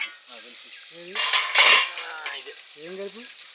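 Garlic, chili powder, turmeric and salt are stirred together in a pot at a forest cooking spot, giving close scraping and clinking strokes that swell in the middle, with faint tonal voice-like sounds at the edges.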